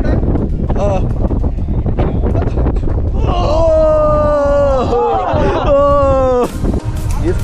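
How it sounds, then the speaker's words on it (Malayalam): Strong wind buffets a hilltop at Chittippara, a loud low rumble across the whole clip, with voices calling and groaning over the gusts in the second half. "ഈ കാറ്റെന്നൊക്കെ പറഞ്ഞ ഒരു രക്ഷയില്ലാത്ത കാറ്റ്."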